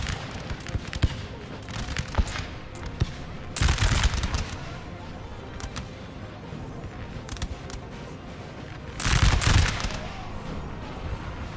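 Musket volleys ring out in a Napoleon: Total War battle against Austrian troops. Two loud, crackling bursts of massed fire stand out above scattered distant shots and battle noise, with a voice talking over it.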